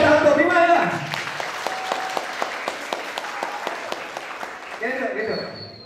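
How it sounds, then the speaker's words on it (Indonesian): A lecture audience on work culture applauds with a burst of distinct, fairly close claps that thin out over several seconds. People talk before it starts and again as it fades. "Tepuk tangan untuk Bima ya."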